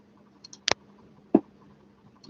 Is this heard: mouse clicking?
yes